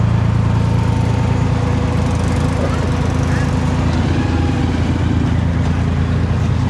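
A big motorbike engine drones steadily and loudly throughout while riding through Cần Thơ in the Mekong Delta, Vietnam, a continuous low rumble with traffic noise around.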